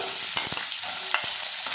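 Chopped onion tipped into garlic frying in a pan and stirred, a steady close sizzle broken by several sharp scraping strokes of the spoon, with no voices.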